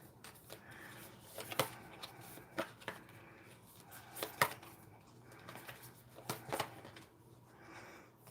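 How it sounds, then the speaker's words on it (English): Tarot cards being shuffled by hand during a live reading, heard as a quiet run of soft riffling rustles punctuated by several sharper card snaps, with no talking. "Let me start shuffling these."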